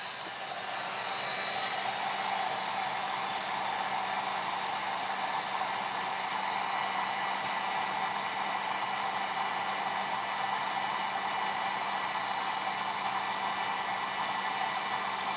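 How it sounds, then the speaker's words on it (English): A heat gun blows into a container of UTE, producing a steady, loud, whooshing airflow hiss with a faint hum that runs unbroken the whole time, with no voices. "Blow the heat gun right into the container of UTE."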